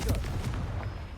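A Confringo spell explodes in Hogwarts Legacy, a loud close blast with a booming thud up front and crackling bursts trailing off over a second.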